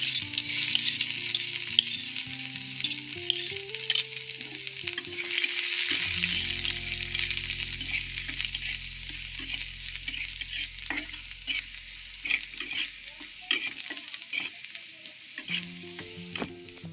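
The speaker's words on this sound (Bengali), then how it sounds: "তেলটা একটু ভালো করে গরম করে নেব এবার আমি রসুনটা দিয়ে দেবো রসুন কুচানো" Chopped garlic sizzles in hot oil in a pan, a continuous bright frying hiss with frequent scrapes and clicks of stirring, close and fairly loud, with a low hum in the background and no voices.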